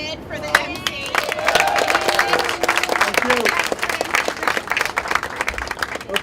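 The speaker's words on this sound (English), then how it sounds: "Can we also get a big round of applause for David for the MC?" An audience at a Berkeley Lab research slam gives the MC a round of applause, steady dense clapping from a large crowd that holds up for several seconds.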